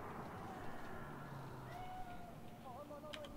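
Cat meowing inside the video game Cyberpunk 2077, set in Night City: a few soft, drawn-out meows over a steady ambient hum, faint and fairly distant.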